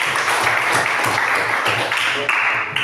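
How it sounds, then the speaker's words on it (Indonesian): A classroom of students applauds a pupil after a correct maths answer. A burst of fairly loud, close clapping from a small group runs through with an uneven, slightly pulsing rhythm. "Tepuk tangan untuk Eca"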